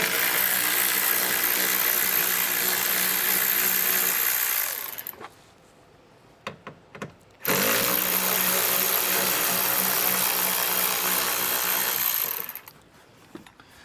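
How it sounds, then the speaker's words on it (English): Two long bursts of a power driver, each about five seconds, remove a pair of 8mm bolts beneath a seat in a 2016 Ford Transit, separated by a short quiet gap with light clicks and handling noise. "we're going to have two 8mm bolts, it looks like, so we'll go ahead and get these removed"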